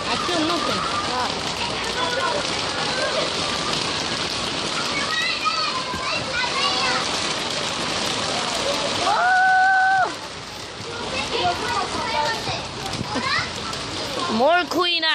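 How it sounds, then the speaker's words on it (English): Steady rain pours down outdoors, a dense hiss of drops on surfaces that continues under children's and other voices talking and exclaiming throughout. "that rain came out of nowhere"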